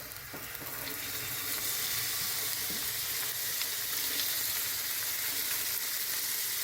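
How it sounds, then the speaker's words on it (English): Steady, bright sizzling of chickpeas roasting in a hot pan, continuous and close, with a few soft scrapes of stirring. "you're getting a nice sizzle on those chickpeas"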